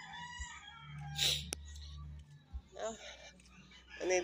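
A rooster crows once and hens cluck faintly in a rural yard in northern Cebu, heard at a distance and low in level, with people talking nearby.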